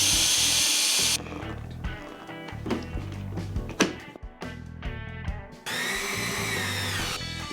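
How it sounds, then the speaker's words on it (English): A power drill whines in bursts, revving up and biting into a wooden panel while drilling screw holes during a sailboat refit, with pauses and handling clatter between, close and loud. "Now I want to just drill the holes for the screws."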